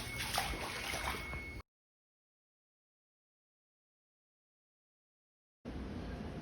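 Hurricane flood water inside a house, sloshing and gurgling in short bursts with a long silent gap between them, close and fairly busy, no voices.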